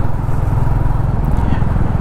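A Royal Enfield Bullet 350 Standard motorcycle on the move, its engine thumping in a loud, steady low drone with wind rush over it throughout.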